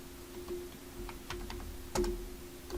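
Computer keyboard keys are pressed in a few sparse, quiet clicks, with a sharper tap near the end, over a faint steady hum. No one speaks.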